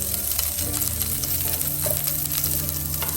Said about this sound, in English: I'm just going to stir fry lightly